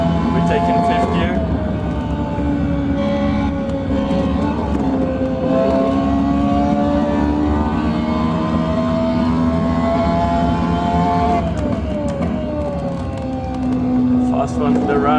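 A race car at speed through a fast fifth-gear corner at Spa-Francorchamps, heard as a loud, sustained engine whine whose pitch rises and dips steadily over about fifteen seconds.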